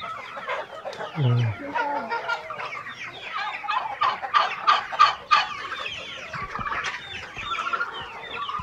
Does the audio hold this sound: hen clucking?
yes